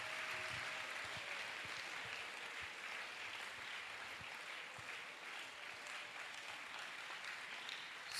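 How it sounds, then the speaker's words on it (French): A church congregation claps for Jesus Christ during a spiritual combat service, with steady, dense applause sustained throughout from a crowd heard at a moderate distance. "Let's clap for Jesus Christ."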